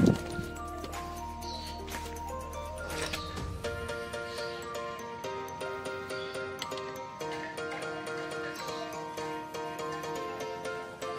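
A wrench ratcheting to tighten the gear oil bolt on a 2015 Honda Scoopy PGM FI scooter, a rapid, steady stream of small clicks close by, following a brief low mechanical rumble at the start.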